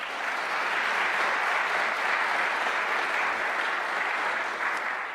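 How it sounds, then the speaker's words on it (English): A community college audience applauds after Governor Hochul's speech, a sustained, even wash of many hands clapping, moderately loud and steady without cheering or speech. "I think that deserves a round of applause."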